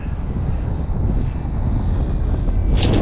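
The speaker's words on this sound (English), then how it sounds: "Oh, that was a hard landing." Dynam AT-6 Texan radio-controlled model plane coming in to land in a gusty crosswind, its engine a steady loud drone mixed with heavy wind rumble, close to the microphone throughout.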